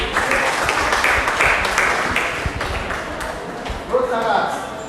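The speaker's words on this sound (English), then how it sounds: "Clap for her." A crowd at a Rotary Club district Interact Day conference claps, a dense run of scattered applause that rises and falls, with voices mixed in.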